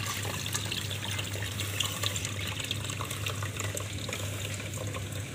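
Muddy water flushes steadily out of a rusty, dirty chilled-water fan coil unit during cleaning, a continuous close rushing and splashing stream with no pauses.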